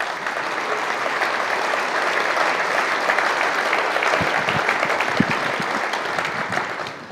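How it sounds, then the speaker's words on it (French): A crowd at an awards ceremony applauds the winners with steady, dense clapping that fills the room throughout and fades slightly at the end. "On peut les applaudir, bien évidemment."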